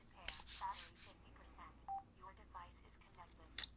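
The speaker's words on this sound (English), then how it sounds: "it just went through a sort of startup sequence where it beeped, turned on, gave me the percentage" Wild Horn Alta wireless helmet headphones run through their startup sequence, giving a few short faint electronic beeps amid quiet rustling and handling sounds, with no clear talk over them.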